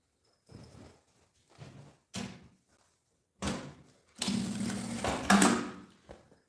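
A sewing machine stitches fabric for a small cosmetic case in several short bursts of close mechanical whirring separated by pauses, the final run longer and louder.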